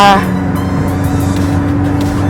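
A 2015 Toyota Revo 2.4 J Plus manual pickup accelerates in power mode, its engine a steady, loud in-cabin drone with a low hum that holds throughout.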